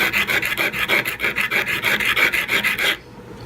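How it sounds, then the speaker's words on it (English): An emery board lightly sanding the end of a leather connector with quick, even back-and-forth rasping strokes, close and steady for about three seconds before stopping abruptly. "if you have like an emery board or something, that you can just really lightly sand it."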